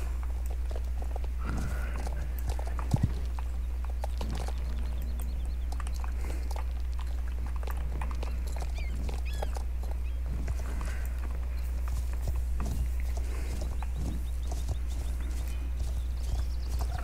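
Horse hooves clip-clopping steadily along a mountain trail, a continuous rhythmic walking gait heard close by over a low constant hum, with a sharper knock near the start.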